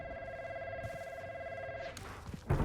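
A phone rings with a steady repeating electronic ringtone, fairly loud and near, for about two seconds before being cut off by louder handling and movement noise.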